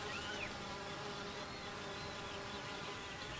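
Honey bees buzz in flight, a dense, steady drone of many wings close by, continuous and fairly quiet.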